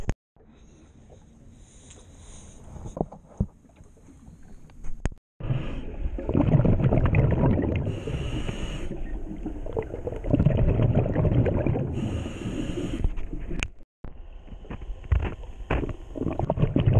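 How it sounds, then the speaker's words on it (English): A kayak is paddled on open water. Splashing paddle strokes and water sloshing come in bursts close to the microphone, with wind buffeting and brief gaps between stretches. "Kayaking."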